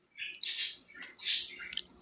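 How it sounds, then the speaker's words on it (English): Birds chirp outdoors in a couple of bright, twittering bursts, moderately near and somewhat faint, with no talk over them. "The birds are talkative today."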